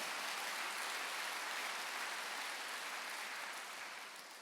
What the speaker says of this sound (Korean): 믿는 사람만 박수하세요.